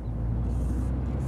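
A Mini John Cooper Works with a 2-liter engine drives along, a soft, steady low engine hum heard from inside the car with no talk.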